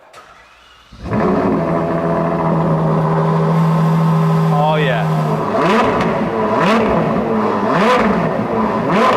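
A Ferrari 812 GTS's 6.5-litre V12 fires up from cold after a second of quiet. It roars loudly into a high rev that holds, then settles with several sharp throttle blips, and a voice briefly reacts.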